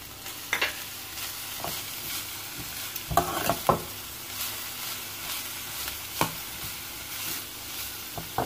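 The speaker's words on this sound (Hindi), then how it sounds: "अब हम इसमें सब्जियां डालेंगे और ये क्रंची क्रंची रहते हैं।" Vegetables and spring onions being stir-fried in a pan for chicken spaghetti, giving a steady background sizzle broken by several sharp scraping and clattering stir strokes, with no talking.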